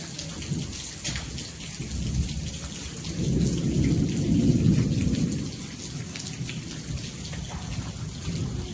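Steady monsoon rain patters over cotton fields while a deep roll of thunder swells in the middle and fades away.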